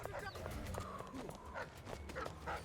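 Dog in the stealth game Dishonored: Death of the Outsider, several short barks and yips near the listener mixed with clattering footsteps, all fairly quiet.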